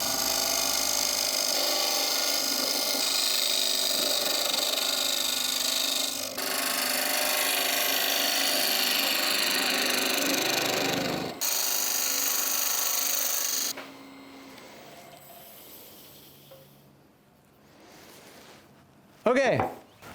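An oak and resin blank spins on a wood lathe while a tool shapes the outside and cuts a tenon. A loud, continuous scraping cut runs for about thirteen seconds, then stops, leaving faint quiet handling noises.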